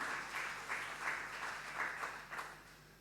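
A church congregation claps in praise during a Spanish-language sermon, with a fairly even, rhythmic pulse of many hands that swells and eases slightly, at moderate volume with no talk over it.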